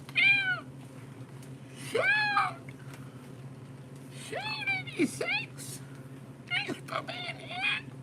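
A person imitates a cat meowing, giving several drawn-out, rising and falling meows in separate bursts over a steady low hum, the last few more rapid and clustered.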